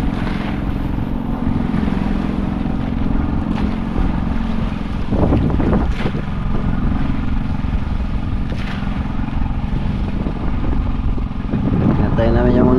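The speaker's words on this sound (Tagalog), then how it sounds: "grabe yung lakas ng alon" Strong sea waves and gusting wind buffet a basnig fishing boat after a storm, a continuous loud roar of wind noise and water with sharp splashes and thuds, under occasional voices.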